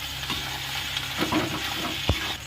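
Green chillies sizzling in a Bengali fish curry in a pan, a close, steady hiss with scraping stirs and a sharp knock near the end.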